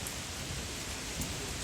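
Steady rain patters on a pond and a glass roof at a bonsai nursery, a soft, continuous hiss of many fine drops with an occasional heavier plink, moderately close and with no talk.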